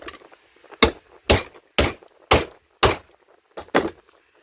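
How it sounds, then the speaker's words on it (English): Six sharp metallic hammer strikes on a hatchet resting on an anvil ring out at a steady pace, each a loud clang followed by a brief pause. "We're going to hammer it a little bit more. We'll put it on the anvil."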